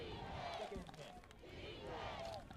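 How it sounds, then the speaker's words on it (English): A football stadium crowd at a Division III playoff game, LaGrange at Berry, roars in the fourth quarter, a broad steady swell of cheering under a commentator's voice. "this crowd once more coming alive for their team, really becoming a lot more involved here in the 4th quarter"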